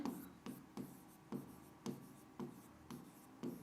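A pen writes an English answer by hand on paper, seven rhythmic scratching strokes at close range, quiet and crisp, with no talk.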